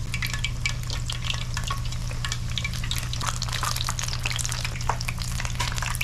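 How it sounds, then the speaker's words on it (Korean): Steady, dense sizzling and crackling of batter-coated eggs deep-frying in hot cooking oil, continuous and close, with no voices. "팬에 식용유 붓고 계란 튀김가루 반죽 묻혀서 튀기고 튀기고 튀기고"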